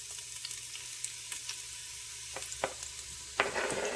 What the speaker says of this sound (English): So we go ahead and put our onions and pepper in.